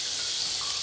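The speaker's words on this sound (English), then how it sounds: "No more sound of water." Water runs from a tap in the video game Sumire, a steady, even hiss of flowing water that stays at one level for the whole short moment.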